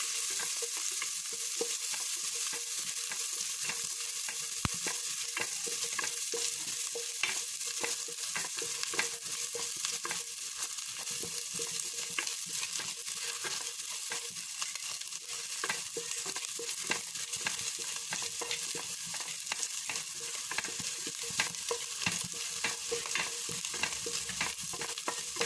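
Chopped ginger and garlic sautéing in melted butter for chicken egg fried rice: a dense, even sizzle with frequent light stirring scrapes, fairly quiet and steady, no speech.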